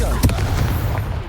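A Confringo fire spell blast in Hogwarts Legacy gives one sharp, booming impact near the start, followed by a lingering rumble over steady game ambience.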